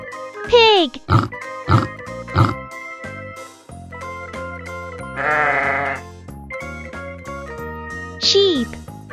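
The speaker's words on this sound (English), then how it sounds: "Pig." A pig makes three quick, evenly spaced grunting oinks over upbeat children's music with tinkling bells, followed later by a bleating call and another short squeal.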